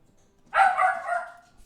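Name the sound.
dog barking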